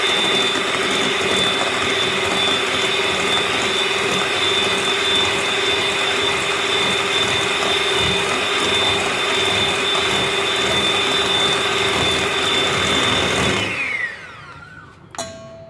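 Electric mixer whirring steadily as it whips chiffon cake batter with lemon juice to a foam, a loud constant motorized drone for about fourteen seconds before cutting off, followed by a brief clink.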